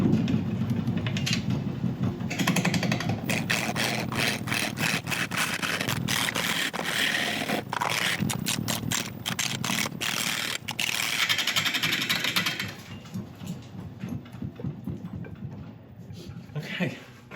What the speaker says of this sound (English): I have to move my lathe back a little bit because it seems to be walking itself across the floor.